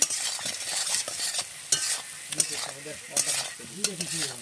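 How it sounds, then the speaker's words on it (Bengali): Spice paste for a rohu fish and potato curry, made without onion or garlic, fries quietly in an oiled pan while a spoon stirs and scrapes it in repeated, rhythmic strokes. "নাড়াচাড়া করে নেব।"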